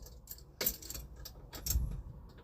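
Original 1953 Mercury car keys jangle in a few brief metallic bursts, close and fairly loud, with quiet pauses between shakes.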